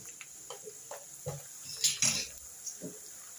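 Goat tripe pieces frying in a pan at home, with faint sizzling under sharp clinks and scrapes of a metal spoon against the pan, one louder clatter midway.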